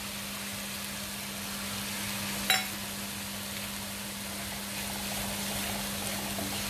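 Fish masala for Multani machhi sautéing in a pan, giving a steady, even hiss that runs the whole time, with a low constant hum underneath and one brief click near the middle.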